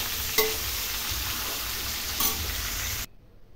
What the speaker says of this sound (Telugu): చికెన్ వేసేసుకుందాం. వేసి ఒకసారి కలిపేద్దాం.